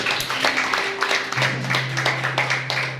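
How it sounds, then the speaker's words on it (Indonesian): A church congregation at a Sunday worship service claps, with scattered rhythmic claps over a sustained organ or keyboard tone and background murmur. "Tepuk tangan bagi Allah."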